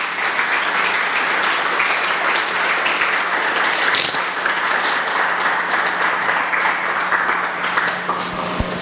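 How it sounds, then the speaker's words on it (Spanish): Steady, dense applause from a church congregation during a Spanish-language sermon, filling the space at an even level from start to finish with no voices on top. "No sé si le puedas dar un aplauso a Cristo Jesús por eso."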